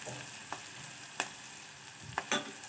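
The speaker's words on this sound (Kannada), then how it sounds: "ಒಗ್ಗರಣೆ ಹಾಕಾಕತ್ತಿದ್ದೆ ಉಪ್ಪಿಟ್ಟಿಗೆ." Spices for upma are tempered in hot oil, giving a faint, continuous sizzle with a few soft clinks from stirring in the pan.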